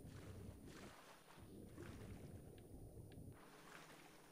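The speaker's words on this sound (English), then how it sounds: "Listen to that water sound." Steady splashing and water wash while a character swims across a lake in Skyrim, the game sound continuous and fairly even, with a few faint higher ticks layered in, no voices present.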